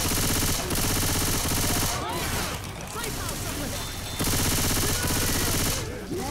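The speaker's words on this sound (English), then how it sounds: "Come and taste the pure power of my silenced SMG." A silenced SMG in Left 4 Dead 2 fires in rapid sustained bursts, loud and close, with brief gaps between volleys and scattered crashes and clatter of combat in between.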